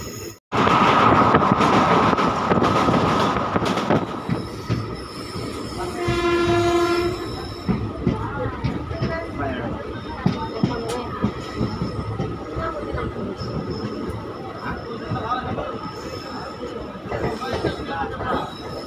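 Malda Town–Katihar daily passenger train running along the line, a loud sustained horn blast with stepped tones early on, then steady rumbling wheel and carriage noise with clicks as it rolls on.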